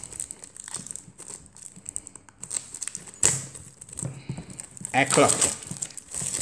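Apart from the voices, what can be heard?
opening plastic wrapping of a Japanese Matchless Fighters box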